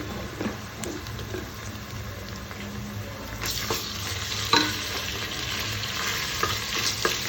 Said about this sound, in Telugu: అల్లం వెల్లుల్లి పేస్ట్ కొంచెం వేసుకుంటే దాని అరోమా బాగుంటుంది